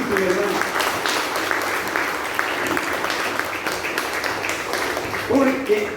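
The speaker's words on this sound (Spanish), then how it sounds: "démosle un aplauso a la Virgen Santísima" A church congregation applauds in honour of the Virgin Mary, the steady clapping running for several seconds at moderate distance, with a voice speaking over it at the start and again near the end.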